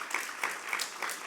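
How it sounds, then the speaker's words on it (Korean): Church congregation at a Friday evening worship service clapping together, a soft, steady patter of applause with rhythmic swells, moderately distant and fairly quiet. "하나님께 영광의 박수"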